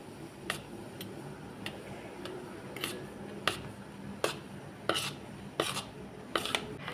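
A spoon stirs a semolina batter mixed with Eno in a bowl, giving a quiet run of irregular light taps and clicks against the bowl over a faint background hum.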